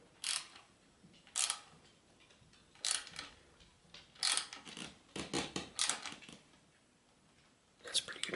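Wrench turning the bolt on a bicycle quill stem gives short clicking and ratcheting bursts, close by and spaced apart with pauses, with quiet speech in between.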